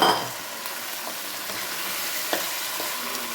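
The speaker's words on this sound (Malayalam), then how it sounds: "ഇനി നമ്മൾ നേരത്തെ ഊറ്റി വെച്ചിരുന്ന മട്ടൻ ഇതിലേക്കിട്ട് ഒന്ന് വരട്ടി" Drained mutton is stir-fried in a pan for a pulao, giving a loud, close, continuous sizzle with a few soft scrapes from stirring.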